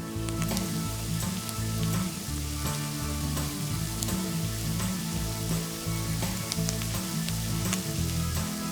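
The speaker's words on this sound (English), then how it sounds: "We've diced up one yellow onion right here. And we're gonna cook this 5 to 8 minutes till it's nice and translucent" One diced yellow onion sizzles steadily in a hot pan, a continuous crackling fry that is close and constant throughout, with no voices over it.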